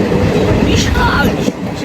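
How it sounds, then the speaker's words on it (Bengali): A fast-moving train just past Bandel, heard from inside the carriage: a steady, loud rumble of wheels and car noise runs throughout, with a brief dip near the end. "এখন এই মুহূর্তে ব্যান্ডেল ক্রস করে ট্রেন মোটামুটি ছুটছে"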